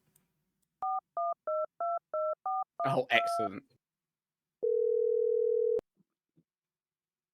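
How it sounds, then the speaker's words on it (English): A telephone number is dialed as a quick run of seven touch-tone beeps, followed by a brief voice and then a single sustained ringback tone, clear and close in a quiet room. "he makes a phone call to the number that he's been given"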